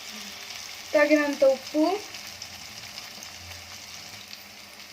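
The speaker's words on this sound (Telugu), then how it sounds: "అల్లం వెల్లుల్లి పేస్ట్ పచ్చివాసన పోయేంత వరకు వేయించుకోవాలి" Ginger garlic paste fries in a pan with a steady, close sizzle from start to finish, and a voice speaks briefly over it.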